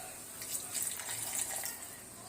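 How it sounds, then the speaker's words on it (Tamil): Water pours and splashes steadily into a pan for a couple of seconds, a soft gurgling stream at close range, no voices. "தண்ணி விட்டு நல்லா கொஞ்ச நேரம் ஒரு கொதி வர வரைக்கும் விட்டுக்கலாம்."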